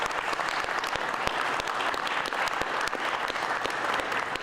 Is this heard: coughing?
no